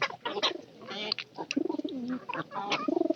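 Pigeons kept alongside chickens coo in repeated throaty, rolling calls close by, with some clucking mixed in and no talk.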